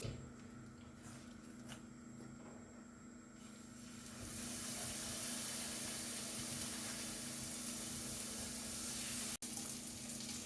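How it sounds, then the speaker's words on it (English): One-calorie olive oil spray hisses into a hot pan, a steady broad spray that starts partway through and runs for about six seconds, with a quieter low hum before it. "I'm going to spread a bit of 1 calorie olive oil inside."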